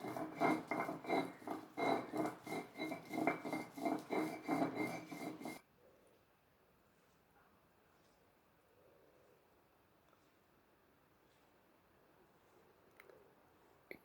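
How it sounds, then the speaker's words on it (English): Phyllanthus niruri leaves are ground by hand on a grinding stone, a loud, rhythmic rasping and rubbing stroke repeated about a dozen times, which stops abruptly and gives way to near silence with a few faint knocks. "if you're using a grinding stone, then you can just straight away grind it."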